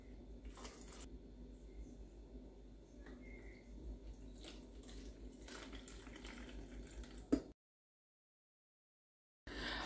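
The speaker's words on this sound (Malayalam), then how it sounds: "ഞാൻ വെള്ളം മുഴുവനായിട്ടും ഈ ഒരു ബോട്ടിലേക്ക് ഒഴിച്ചു വെച്ചിട്ടുണ്ട്" Water is poured into an old shampoo bottle still holding a little shampoo, a soft close trickle lasting several seconds with small clinks before it cuts off abruptly.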